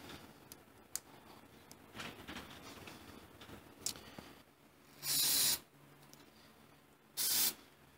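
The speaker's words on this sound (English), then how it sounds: "we should probably clean them out with some electrical cleaner" Electrical cleaner is sprayed onto wiring connectors and terminals of an old Kawasaki in two short, loud hissing bursts about two seconds apart, following several seconds of quiet ticks and faint handling noises.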